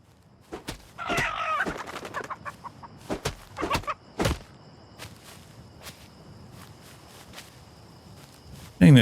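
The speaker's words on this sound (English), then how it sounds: "There's another chicken." A chicken in the video game Crafting the Future gives a few short clucks early on, mixed with scattered footstep-like taps, then mostly quiet game ambience with a brief burst at the end.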